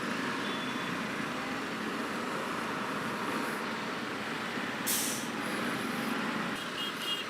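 A TVS Apache RR310 motorcycle sits stuck in road traffic, surrounded by a steady, dense rumble of nearby trucks and buses, with a brief hiss like an air brake partway through.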